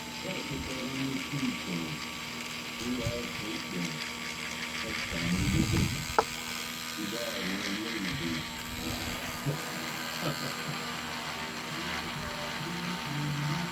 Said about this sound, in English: you want to do all of this Dremel work so that you can get it so that it'll work, be smooth